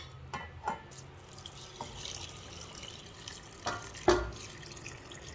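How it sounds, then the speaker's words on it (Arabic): Water dissolved with salt and pepper is poured over soaked rice and eggplant slices in a pot for chicken maqluba, giving a faint, steady trickle with a few soft knocks and no voices. "بحط المي اللي ذوبتها بالملح والفلفل"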